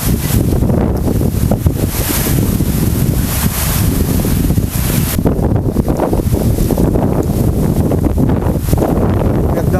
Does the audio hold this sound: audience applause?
no